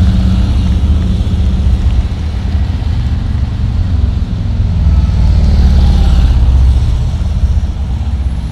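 Police officers on a memorial ride to Washington, D.C. roll past as a loud, steady rumble of engines and road noise, with their support vehicles following behind.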